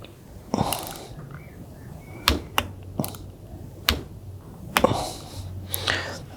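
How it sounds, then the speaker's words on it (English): A giant bicycle torque wrench tightens the terminals of a 200Ah LiFePO4 workshop battery, giving several sharp, close clicks at uneven intervals over a quiet background. No one speaks. "This is a giant bicycle torque wrench."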